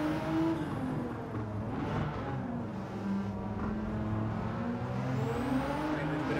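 A 2017 Pennzoil GT-R races in Gran Turismo 7 on Deep Forest Raceway, its engine droning steadily in third gear with rising and falling pitch under the throttle, held loud and continuous throughout.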